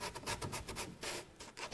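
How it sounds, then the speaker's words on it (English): Sandpaper rubbing inside the grooves of a wooden Kmart crate, a steady close rasping scrub in short back-and-forth strokes with no talk over it. "Just going to sand in here."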